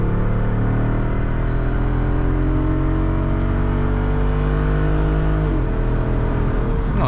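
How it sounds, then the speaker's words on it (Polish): A 2021 Jeep Wrangler 6.4 HEMI V8 accelerating hard, loud continuous engine roar with rising harmonics climbing steadily, then a brief dip around a gear change before pulling again, heard from inside the cabin. "Jeszcze może jakaś próbka przyspieszenia?"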